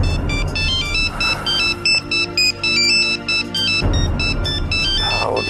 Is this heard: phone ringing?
yes